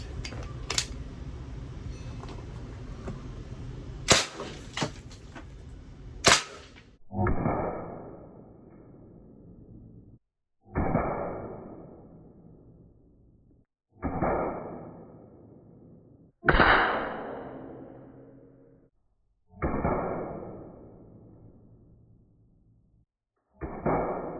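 A CO2 air gun firing pointy .50 caliber metal-plastic slugs at a target about ten feet away, heard as a series of about seven loud, evenly spaced shots, each a sharp crack that decays quickly into a short ring.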